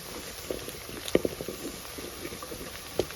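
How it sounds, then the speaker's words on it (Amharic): Onions frying in oil in a pan, with a soft steady sizzle broken by a few sharp pops and crackles scattered across the few seconds. "ዘይትና ሽንኩርቱን እየተቁላላ ነው።"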